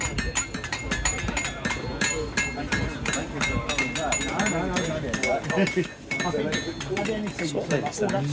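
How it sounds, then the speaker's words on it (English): Metal forging at a bushcraft show: repeated sharp hammer strikes ringing on metal in an irregular rhythm, mid-distance, under steady conversation from several people nearby. "Now both of you start forging."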